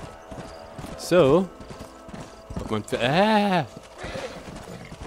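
A horse in the Red Dead Redemption video game clip-clops along with light, irregular hoof taps, partly buried under someone speaking German nearby.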